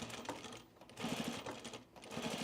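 A domestic sewing machine runs in short bursts along the welt of a pre-quilted Tamarack jacket, with brief pauses between close, steady stitching runs.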